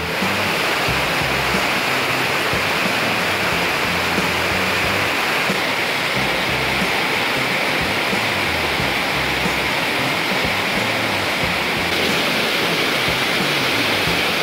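Santa Cleotilde waterfall in Zamora Chinchipe, Ecuador, heard as a steady loud broadband roar of falling water that continues unbroken for the whole stretch.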